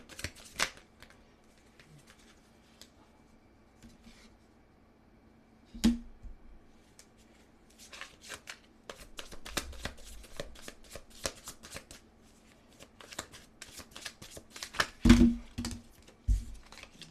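A deck of tarot cards being shuffled and handled, sparse soft snaps and flicks at first, then bursts of rapid riffling and slapping of cards, close and dry, with no talking.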